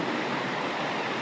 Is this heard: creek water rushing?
yes